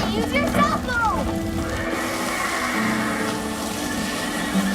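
Horses neighing and whinnying during a frantic emergency, a couple of rising and falling calls near the start, heard among children's voices and shouting.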